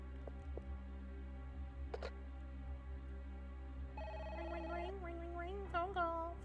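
Telephone ringing inside the Parasite Eve video game, with repeated electronic ring tones over a low constant hum, faint and broken by brief clicks.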